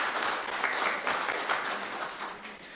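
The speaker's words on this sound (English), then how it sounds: "So can we give him a big round of applause," Moderate applause from an audience at a health research day, even clapping that holds steady and then thins slightly toward the end.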